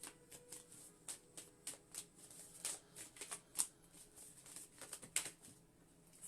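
Rapid riffling and patter of cards being shuffled, in repeated quick bursts of crisp flicking over a quiet room background.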